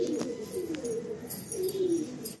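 Madrasi pigeons coo in a loft in Kolkata, a low steady burbling murmur that swells and fades in two waves, close by, with faint higher chirps above and no talking.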